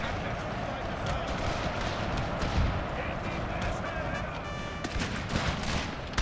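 Matchlock infantry fire in Total War's Thirty Years' War battles: dense, crackling musket volleys and distant booms roll continuously while someone talks over the battle.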